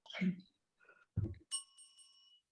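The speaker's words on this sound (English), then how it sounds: "We have to ring it little loud so we can hear." A hand bell is rung during an online session, giving a bright ringing strike that lingers briefly toward the end, preceded by a few bursts of nearby voice and handling noise.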